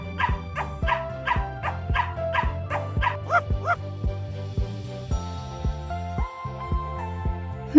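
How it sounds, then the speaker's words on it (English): A dog in the Piper's Pet Cafe video game barks in a rapid repeated series of short yips over a looping tonal game music track, with a few whimpering notes and no speech. "Skipper sure does bark a lot"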